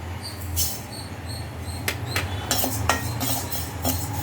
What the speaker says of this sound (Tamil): அரிசியை வறுத்துக்கலாம்